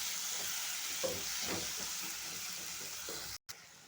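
Tomatoes and turmeric powder fry in a pan for chicken gravy, giving a steady close sizzle and hiss with soft stirring scrapes, then a brief drop to silence near the end.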